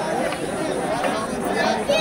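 Dense crowd babble at a palkhi procession (Aai Mauli palkhi sohala 2024), a steady wash of many overlapping voices, fairly close and continuous, with no single speaker standing out.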